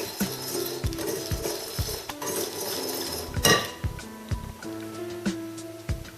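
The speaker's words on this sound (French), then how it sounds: "le sel et le curcuma. Je le mélange." A spoon clinking against a bowl while mixing salt, turmeric and baking soda for Indian bread pakora batter, close sharp knocks in an irregular rhythm with scraping between them.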